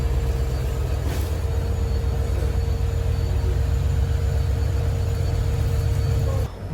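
A train arrives at Harmuti Junction railway station. A steady, loud rumble of rolling wagons with a faint whine above it runs throughout and drops away abruptly at the end.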